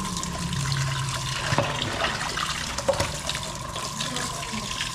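Freshly boiled hot water pours steadily in a steady, close rushing stream that lasts throughout, with faint background noises and no talking.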